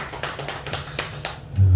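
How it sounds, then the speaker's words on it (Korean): A church congregation claps briefly in welcome, a short scatter of quick hand claps ending in a louder low thump. "우리 감사 박수 한번 하겠습니다."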